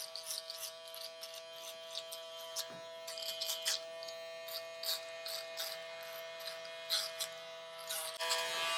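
UV foil shaver buzzing as it trims beard stubble down to a fade, a steady close electric hum with repeated short scratchy bursts as the foil passes over the hairs.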